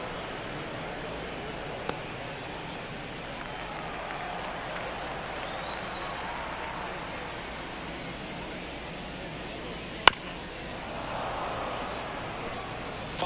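A baseball stadium crowd at a Phillies vs Rockies game makes a steady, distant murmur during an at-bat. A sharp crack and a faint swell of cheering rise near the end, with light background chatter.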